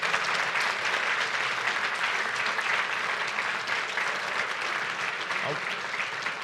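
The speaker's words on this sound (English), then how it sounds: "let's give the two candidates for sheriff a big round of applause" An audience at a candidates' forum gives the two sheriff candidates sustained, even applause, a full wash of clapping that stays loud throughout with a few voices underneath.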